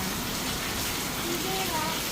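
Heavy downpour in Kalavad, Gujarat, a dense and constant wash of rain close by with no breaks, and a few faint tonal sounds drifting through the roar.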